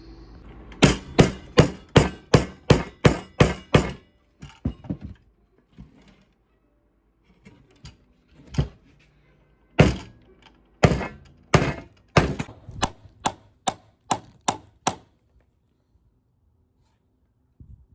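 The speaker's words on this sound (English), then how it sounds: "We hammered it down as far as we could until it compressed it enough to where it was extremely tight" Wooden peg hammered down through a log, heard as two fast runs of sharp, loud hammer blows, about seven strikes in quick rhythm, then scattered knocks and a second regular series of strikes, with no talk.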